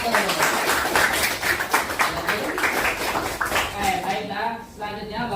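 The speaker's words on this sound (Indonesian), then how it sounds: "Tepuk tangan untuk kelompok 1." A classroom of students applauds a group after its presentation, with dense, continuous clapping and overlapping voices that thin out near the end.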